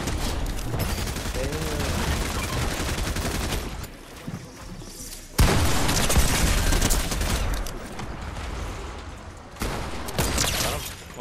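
Rapid bursts of gunfire in the online battle game Fortnite, loud and dense, stopping briefly and then resuming in several volleys. Speech is likely mixed in with the shooting.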